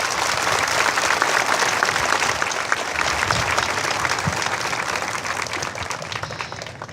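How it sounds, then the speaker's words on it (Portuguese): Steady, enthusiastic applause from a large crowd at a religious festival, dense clapping that holds throughout and fades slightly toward the end. "Nós o acolhemos com calorosos aplausos."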